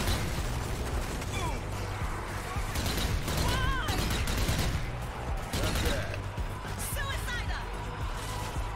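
Rapid gunfire from shooting zombies in Zombie Army 4: Dead War, a dense, continuous barrage of shots mixed with other game effects.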